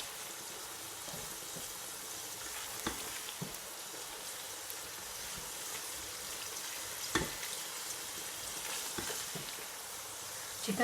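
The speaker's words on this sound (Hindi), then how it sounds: "चिकन का कलर चेंज होने तक और जब तक ऑयल नहीं छोड़ देता तब तक हम इसे भूनेंगे" Chicken pieces frying in hot oil in a pan, a steady close sizzle and crackle with occasional sharper pops and stirring scrapes, continuous and moderately loud, with no voices.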